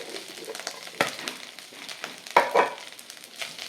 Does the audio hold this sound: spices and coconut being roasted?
yes